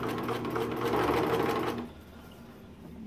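A sewing machine hums steadily while stitching a homemade heating pad, running close and even for nearly two seconds before stopping abruptly, leaving a quiet room hiss.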